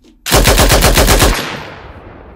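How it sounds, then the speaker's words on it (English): A Lewis gun machine gun fires one loud, rapid burst of about a second, each shot distinct, then a long echoing tail fades away. No voices. "Lewis gun, which was developed by the Americans and used by the British Army. I'll play you a quick preview."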